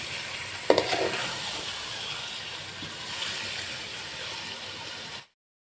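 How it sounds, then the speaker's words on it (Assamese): Chicken pieces for biryani stirred and tossed in hot oil in a pan, a steady close sizzle with a sharp scrape of the utensil near the start, continuing evenly before cutting off abruptly. "চিকেনখিনি দি এতিয়া তেলৰ লগত ভালদৰে মিক্স কৰি দিম এনেদৰে"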